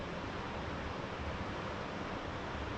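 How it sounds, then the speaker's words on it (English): Sea waves wash behind the seafront road in Torremolinos, Spain, heard as a faint, steady, broadband hiss of distant surf with no distinct breaks. "And the sea is behind the road over there"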